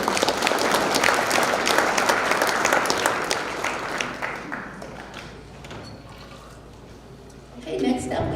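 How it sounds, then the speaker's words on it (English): A high school scholarship banquet audience applauds the award recipients, a full burst of clapping that gradually thins and fades out over several seconds, followed by a voice speaking near the end. "So a round of applause for everyone."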